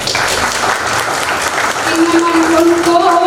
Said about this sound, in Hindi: ऐसी ही तालियों का नमन आपसे मुझे चाहिए।